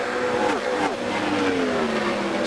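Open-wheel Indy race cars at the 1999 Indianapolis 500 scream past one after another down the backstretch, engine notes dropping in pitch as each car goes by, loud and continuous over a steady roar of the field.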